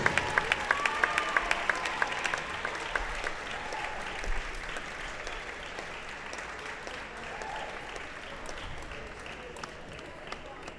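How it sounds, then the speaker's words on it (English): Basketball fans applauding the seniors on senior night, a sustained wash of crowd clapping and cheering that fills the gym from start to finish, with a few sharper claps standing out early on. "Congratulations and a big round of applause to all of the seniors."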